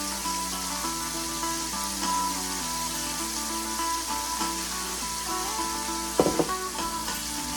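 Chicken wings fry in hot grease with a continuous close crackling sizzle, steady throughout, with a short clatter of a utensil near the end.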